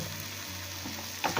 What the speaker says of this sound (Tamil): இது நல்லா கொதிக்கட்டும்.